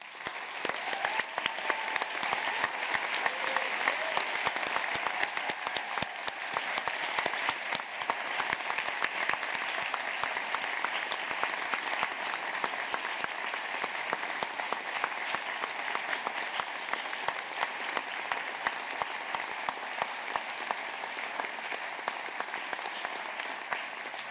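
At a university Charter Day ceremony, an audience applauds students standing for their achievements, sustained crisp clapping from a large hall that swells early and then continues at a steady, slightly easing level.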